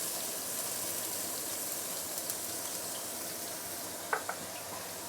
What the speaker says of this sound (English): Once you have heated up the oil, we can now put in the garlic.